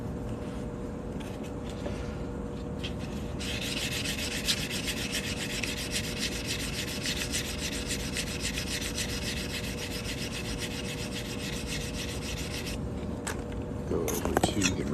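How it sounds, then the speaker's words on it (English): Continuous close-up rubbing and rasping as the cut edge of a handmade coin ring is sanded, a steady abrasive scrape that runs for most of the stretch. "I'll sand this cut edge a little bit."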